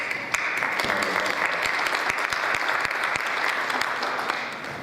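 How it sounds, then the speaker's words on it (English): A school board meeting audience gives a round of applause, a fairly even run of many hands clapping at moderate level with a few sharper individual claps standing out. "I think you deserve a round of applause."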